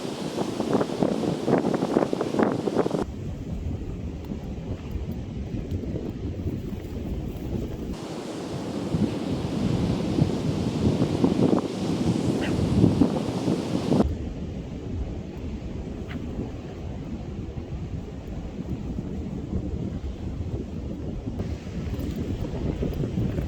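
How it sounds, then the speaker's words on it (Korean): Strong gusts batter the microphone on a beach at Songjeon, roaring loudly in long surges with surf rolling underneath and no one speaking. "바람이 워낙 강력해서 어떻게 할 수가 없습니다"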